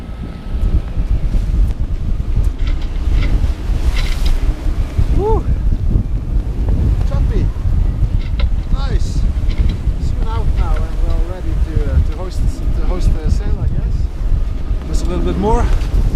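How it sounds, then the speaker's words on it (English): A sailboat under full engine power runs downwind out of Whalsay Sound off Shetland, a steady engine drone mixed with heavy wind buffeting and rushing waves, with a voice speaking briefly at times. "I will turn her with the wind and proceed out Whalsay Sound with full power downwind"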